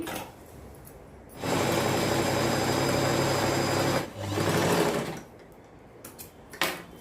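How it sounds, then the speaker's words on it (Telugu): Sewing machine stitching a patiala salwar, a loud close mechanical whir running in one long burst, a brief pause and then a shorter second burst, with quiet handling sounds around it. "ఇంకొక కుట్టు వేస్తున్నానండి నేను"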